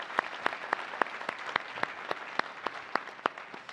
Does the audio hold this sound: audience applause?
yes